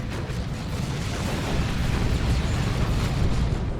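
A grenade blast in the real-time strategy game Dawn of War 2 during a 3v3 match, heard as a dense, rumbling wash of explosive noise that holds steady and loud across the whole stretch, with no clear single sharp bang.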